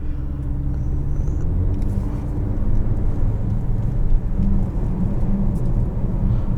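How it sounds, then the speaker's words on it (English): A Range Rover Velar P340 idles and rolls with a low, steady exhaust rumble, soft muffled cracks and burbles popping faintly through it close by. "I can hear the cracks and burbles. They're being toned down by the muffler"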